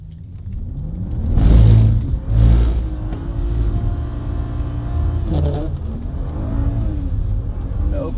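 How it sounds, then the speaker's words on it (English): A turbocharged BMW 435i, a base model built to over 500 wheel horsepower, revs hard with two loud surges, then settles into a steady engine drone. Its blow-off valve lets out a long hiss as the throttle lifts. "The BOV lets out a super long shh"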